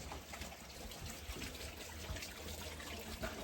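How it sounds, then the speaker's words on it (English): A backyard water feature trickles with a steady, faint splashing and dribbling of water, continuous and even, heard outdoors with no voices. "Another water feature out back."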